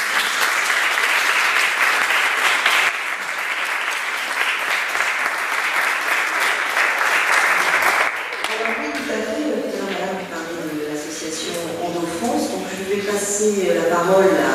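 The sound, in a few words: audience applause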